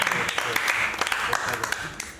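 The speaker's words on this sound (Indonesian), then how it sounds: "Tepuk tangan dong" Audience applause at a live Marapthon stream event with a guest star, a crowd clapping beneath ongoing speech, with a few sharper individual claps standing out from the wash.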